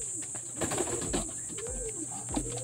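A pigeon coos several times in soft, low, rolling calls against a steady background hiss, with no talking.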